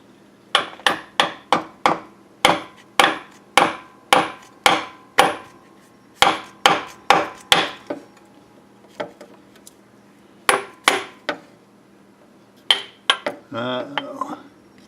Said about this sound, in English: we're going to do a little hammer on hammer handle technique